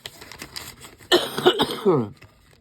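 Several harsh coughs from one person close by, a quieter rasp first, then a burst of loud hacking coughs before fading out.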